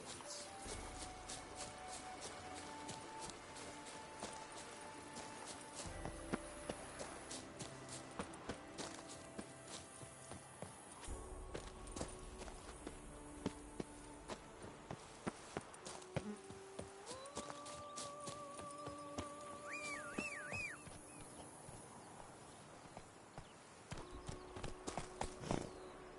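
Roach, a horse in The Witcher 3: Blood and Wine, moves with a quick steady clip-clop of hooves, fairly close, under game music with buzzing insect-like ambience and occasional louder hoof strikes.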